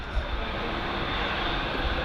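A Qatar Airways Boeing 787 jet from Doha at Manchester Airport, heard from the runway visitors park as a steady, broad engine roar that holds loud and constant throughout.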